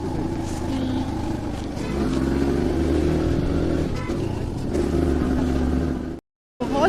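A motorbike rides a steep, snow-covered mountain road toward Dhanaulti near Mussoorie, slipping on the snow, with a steady close engine drone and wind rumble that cut out briefly near the end.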